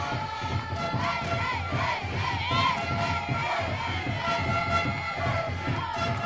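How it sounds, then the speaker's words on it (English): Home crowd at a U16 women's softball semifinal between the Czech Republic and the Netherlands in Ostrava cheering and shouting steadily, a dense mass of voices with excited yells rising throughout. "home crowd a little awakened by this important moment"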